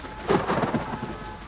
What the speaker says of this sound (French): Oh, l'orage! Tellement bien fait!